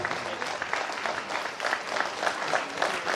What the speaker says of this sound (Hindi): तालियों की गूंज रुकनी नहीं चाहिए